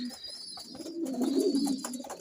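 Pigeons cooing in a loft, a low soft rolling coo repeating under steady background noise, close and moderately loud with no talk.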